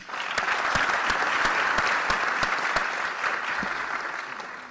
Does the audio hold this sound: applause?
yes